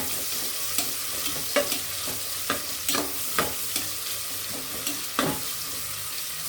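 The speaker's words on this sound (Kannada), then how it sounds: "ನೋಡಿ, ಈ ಥರ ಫ್ರೈ ಮಾಡ್ತಾಯಿದ್ದೀನಿ." Ingredients for egg biryani fry in a pan, a steady sizzle broken by a series of sharp stirring scrapes and clatters at irregular intervals, close and fairly loud.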